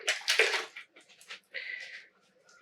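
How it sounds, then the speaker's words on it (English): Yarn dunked several times in a basin of dye water, giving a few close, splashy sloshes that fade into softer dripping and swishing. "Just dunk it a few times now."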